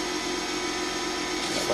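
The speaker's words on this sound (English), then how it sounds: "I do a little sanding to improve the profile" Steady whirring of a spinning lathe with a soft abrasive hiss of sandpaper against a wooden miniature bowl, continuous and close, no talking.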